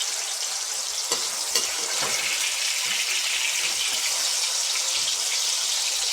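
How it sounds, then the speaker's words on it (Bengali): Tomatoes frying lightly in oil for a Bengali noboratno mixed-vegetable dish, giving a steady, dense sizzle that stays even throughout with a couple of faint stirring clicks and no talking. "এই হয়ে গেছে আমাদের টমেটোগুলো ভাজা, একদম হালকা করে ভেজেছি, বেশি ভাজিনি"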